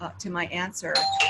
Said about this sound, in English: Uh-oh, that's my doorbell.